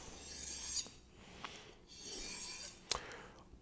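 Knife blade drawn along a sharpening rod, a few quiet scraping strokes at the same angle, with a sharper metallic swipe near the end; faint and close, with no talk.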